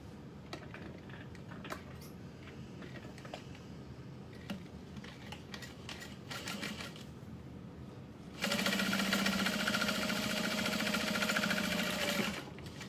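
A sewing machine stitches a zipper in place on a Freesia foldover bag at a 3.5 stitch length, its steady mechanical whir starting partway through and running loud and continuous for about four seconds after quieter handling noises.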